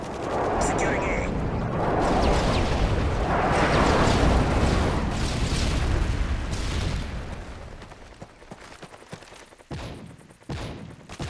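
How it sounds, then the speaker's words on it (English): Enemy airstrike explosions in a Domination match of a first-person shooter, several heavy rolling blasts and rumbles swelling over the first seconds, then fading into scattered gunfire and thuds, with game voice callouts over the top. "Enemy airstrike approaching."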